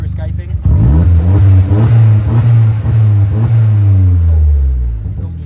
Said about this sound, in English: As every time I rev it and you come off the throttle, that boost pressure escaping.